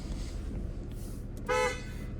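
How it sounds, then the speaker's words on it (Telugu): A short single beep from the horn of a 2018 Tata Tiago diesel car, heard once over a quiet idling cabin background. "హారన్"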